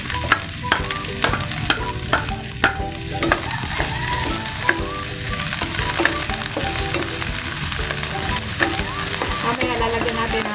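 Onion sizzles in a hot pan for chop suey, a constant close crackle of frying with frequent scraping and clinking as it is stirred.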